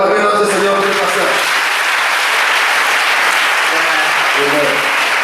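Loud, dense applause from a church congregation for the pastor at a service, steady throughout with a voice speaking briefly at the start and again near the end.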